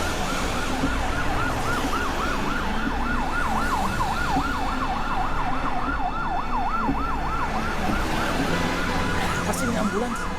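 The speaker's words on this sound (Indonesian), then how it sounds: "Pasti ini ambulans, kita kan juga buru-buru." An ambulance siren wails in a continuous rising and falling cycle over steady road traffic rumble, clearly audible and fairly close throughout.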